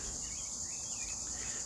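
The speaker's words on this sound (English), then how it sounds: "You can hear the cicadas." Cicadas chirping in nature, a steady high-pitched insect drone that holds evenly throughout, faint and distant with a soft low background hum.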